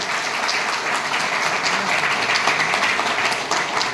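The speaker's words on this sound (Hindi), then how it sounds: "सबसे बड़े पहले तेजी से सब तालियां बजाइए" A crowd applauds continuously, a dense, steady wash of clapping from many hands throughout.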